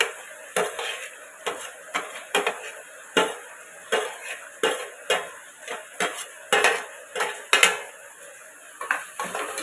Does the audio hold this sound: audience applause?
no